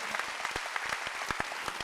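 A church congregation claps during a Korean Sunday worship service: sharp, fairly even hand claps repeat quickly and a little unevenly, many hands together but at moderate volume, with no speech over them.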